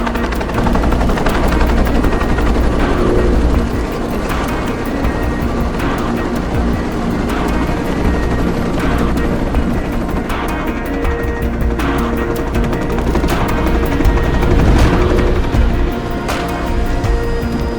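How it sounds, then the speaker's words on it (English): A helicopter waiting outside in Tomb Raider: Legend, its rotor thumping steadily and loudly under dense bursts of gunfire throughout, no talk. "Nishimura's got a chopper outside waiting for you."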